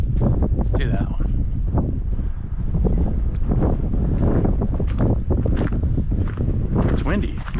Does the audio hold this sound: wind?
yes